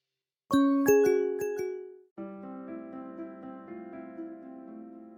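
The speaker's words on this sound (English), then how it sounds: "press bell icon to get instant update" A notification bell chime sounds as a short bright ding-dong sequence of ringing tones, followed by a sustained layered chime that rings on and slowly fades, alone with no voices.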